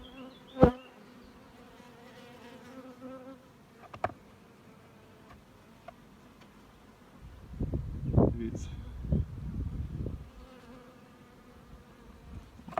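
Carniolan honey bees buzz around hive frames, a rising swell of close humming in the latter part after quieter moments broken by a few sharp knocks, with someone speaking briefly.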